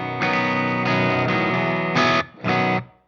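Repeated strummed chords on an Ibanez AS7328 baritone guitar tuned to B, thick and muddy with distortion and effects, several sustained strums followed by two short choppy hits that stop cleanly.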